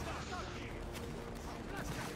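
Dense, rapid crackle of massed musket volley gunfire in a Napoleonic Wars video game battle, filling the whole stretch with steady noise and a few sharper bursts.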